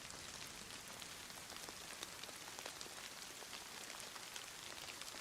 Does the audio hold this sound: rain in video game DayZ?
yes